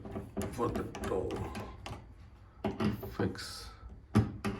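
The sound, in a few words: fitting hinges on a DIY wardrobe door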